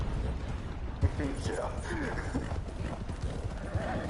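Horse hooves clip-clop in a video game, a few faint, irregular hoof thuds and a whinny under the steady talk of players.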